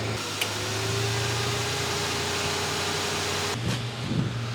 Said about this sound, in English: Time to engage the air conditioner.